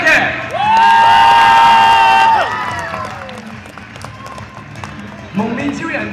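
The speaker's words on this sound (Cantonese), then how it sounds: "我哋俾啲掌聲低嘅。" At an expo stage show featuring Kamen Rider Decade, a crowd breaks into applause and cheering after a tonal fanfare, with clapping continuing more loosely beneath a voice on a loud PA.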